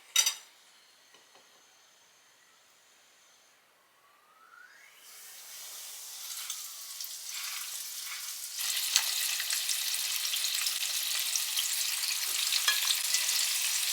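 Chicken is set into a hot pan of oil to fry and erupts into steady, loud sizzling after a quiet start with a few clinks, growing denser and more crackling as it goes on, with no talking.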